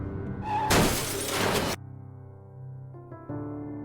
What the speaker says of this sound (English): Shatter.